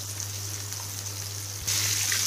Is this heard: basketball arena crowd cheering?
no